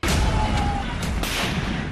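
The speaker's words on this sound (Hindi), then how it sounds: "धमाका नंबर 1" A loud, sudden explosion in West Bengal, a harsh burst of noise, followed by a rough rumbling tail and a second sharp crack shortly after.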